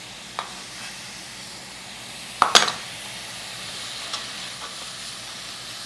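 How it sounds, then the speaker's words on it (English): Celery and shallots sauteing in a pan for oyster dressing, a steady soft sizzle with a few sharp utensil clacks against the pan partway through. "So I saute them all up, plus with the shallots"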